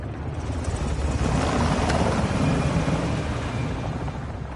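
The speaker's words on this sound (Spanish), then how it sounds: "el helicóptero de ataque Talon va hacia ti" A Talon attack helicopter in the video game Warzone 2 sends out a loud, continuous rotor and engine roar that holds steady throughout, with no voices over it.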